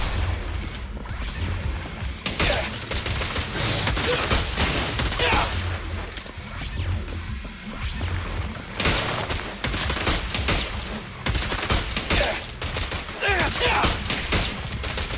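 Gunfire and combat in the video game Zenless Zone Zero on PS5, dense rapid volleys of shots mixed with crashes and impacts, continuous and loud with only brief lulls.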